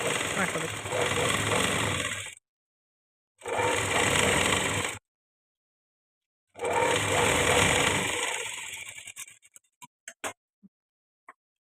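A sewing machine stitches piping on a blouse sleeve in three bursts of fast, whirring stitching separated by short pauses, then a few light clicks of the machine as it stops.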